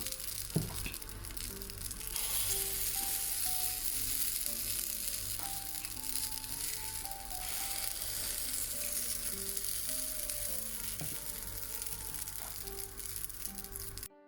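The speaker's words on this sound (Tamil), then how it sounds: "குண்டு தோசையை இப்படியே வேக விடணும்." Kundu dosa batter fries in an oiled dimpled pan with a steady, close sizzle and crackle that lasts throughout, while soft music plays in the background and no one speaks.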